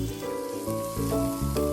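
Garlic, chili and cubed tomatoes sizzle in ghee in a frying pan, a steady crackling hiss that stays close and fairly loud throughout, with no talking over it.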